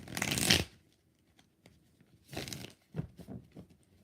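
Tarot cards are shuffled in three quick, crisp riffles: a long fluttering burst first, then two shorter shuffles after a brief pause, close and alone with no talk.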